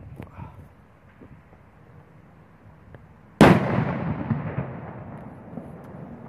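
A 100-shot firework battery goes off with a single sharp, loud blast after a stretch of quiet outdoor murmur, followed by a long crackling, rumbling decay.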